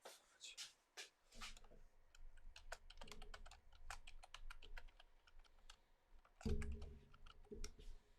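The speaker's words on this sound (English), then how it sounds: "as I fucking fat finger the keyboard." Fast, uneven typing on a computer keyboard, dense clusters of sharp clicks with short pauses and a few heavier key thumps, close and fairly quiet.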